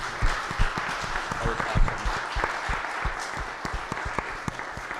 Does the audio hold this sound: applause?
yes